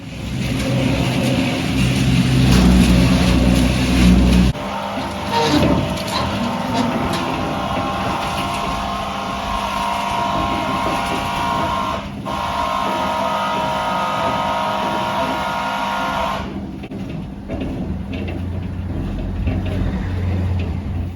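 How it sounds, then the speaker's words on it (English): A cement mixer churns concrete while a mezzanine is being built over a lounge and kitchen, giving a steady loud mechanical drone throughout, deepest in the opening seconds, with clunks and shifts partway through. "Right, mixing up cement."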